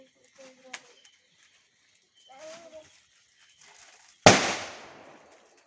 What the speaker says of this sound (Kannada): ಎಲ್ಲ ಪಟಾಕಿ ಬಿಡೋದ್ರಲ್ಲಿ ಬ್ಯುಸಿ ಆಗಿದ್ದಾರೆ